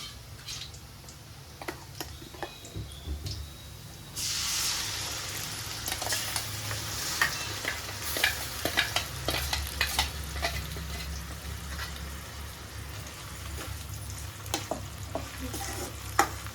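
Ground masala is dropped into a fish curry pan and the quiet background jumps into a loud, crackling sizzle, with regular clicks and scrapes of stirring running on over the steady fry.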